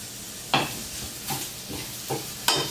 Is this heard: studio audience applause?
no